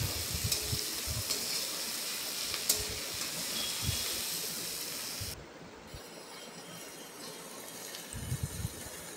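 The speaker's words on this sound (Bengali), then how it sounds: "আমি দিয়ে দিচ্ছি আদা বাটা, রসুন বাটা দিয়ে আমি খুন্তি দিয়ে একটু নেড়ে চেড়ে নিচ্ছি" Ginger and garlic paste frying in a pan while being stirred with a spatula: a quiet, continuous sizzle with soft scraping knocks from the spatula at irregular intervals.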